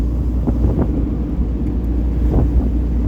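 An MGB sports car on the move, engine rumble under a heavy blustery rush of wind buffeting the microphone, continuous and close with no talk.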